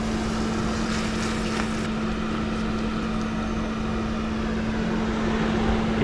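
A small exhaust fan runs inside a van during cooking, giving a steady whirring hum with a constant low tone and broad airy noise throughout, with faint clinks early on.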